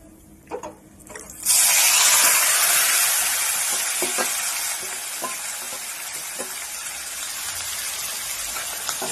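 Loud, steady sizzling of chicken dropped into hot oil with cumin, starting abruptly after a couple of soft clinks and continuing without a break, no voices.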